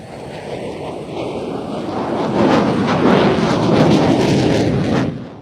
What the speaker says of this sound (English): This is the second of the F-16's 360, which, as I say, was a bit quicker.